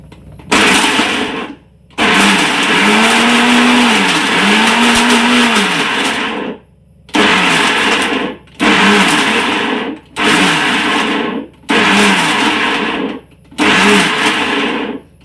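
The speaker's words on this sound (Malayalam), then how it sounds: "മിക്സിയിൽ ഞാനിതൊന്ന് കറക്കട്ടെ കേട്ടോ" An electric mixer grinder runs in loud bursts, one long whirring run of several seconds followed by four short pulses separated by brief pauses, close and harsh with a pitch that dips and climbs under load.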